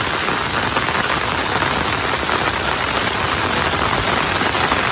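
Heavy rain pours down across an open field, a loud, unbroken hiss of dense drops drumming on a nearby surface, steady and close for the whole stretch with no voices.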